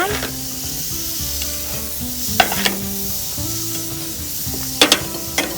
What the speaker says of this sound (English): The barbecue is nice and hot, and I'm going to throw my burgers on.